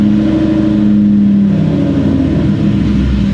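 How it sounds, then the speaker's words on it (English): A Ford Mustang engine idles close and loud after a brief rev, its steady mid-pitched drone sagging slowly as the revs fall back toward idle, with no voices. "I'm gonna give it a quick little baby rev. Now watch how slow the RPMs come back down."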